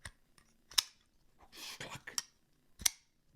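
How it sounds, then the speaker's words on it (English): A custom pocketknife blade of CTS XHP steel opens and snaps shut, a few sharp metallic clicks and a brief swishing slide, close and quiet, spaced irregularly. "It is like a stunning sounding knife."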